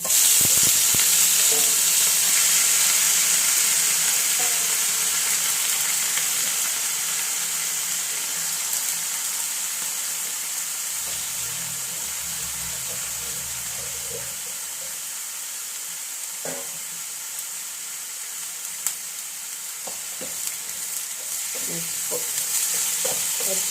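Chopped raw plantain frying in masala paste gives a steady, close broadband sizzle that holds throughout, with occasional soft stirring knocks and scrapes against the pan.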